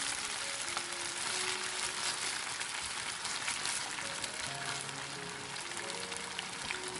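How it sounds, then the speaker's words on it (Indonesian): Chicken pieces fry in hot oil, giving a continuous soft crackling sizzle with scattered pops, steady and fairly quiet throughout, with no talking. "Kalau minyak sudah panas, kita masukkan ayam, goreng sampai matang."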